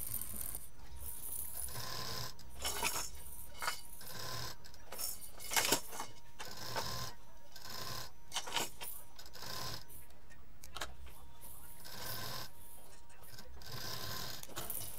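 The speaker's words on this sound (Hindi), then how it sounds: "पहले हम पूरे पाइपिंग को चारों तरफ सिल देंगे इस तरह से।" A sewing machine stitches piping around a small baby toy pillow in steady runs of rapid mechanical whirring and clicking, with pauses and light handling clatter between bursts.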